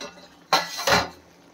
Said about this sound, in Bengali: আমি ঢাকাটা একটু উঠিয়ে দেখব শাকটা আমার কেমন হয়েছে।